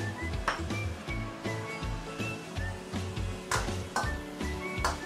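Ginger, garlic, green onion stems and mui heong salted fish fry in hot oil in a pan, giving a soft, steady sizzle with occasional light clinks of a utensil over a low tonal hum.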